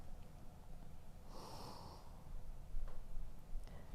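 A single deep breath during a beginners' yoga flow, a soft airy exhale close to the microphone, quiet and alone with no speech.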